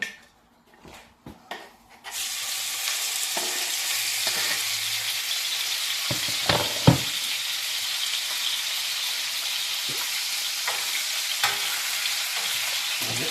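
Ossobuco meat hits a hot pan with chuck, starting a loud, steady sizzle of frying that runs on continuously, with occasional knocks of a utensil against the pan.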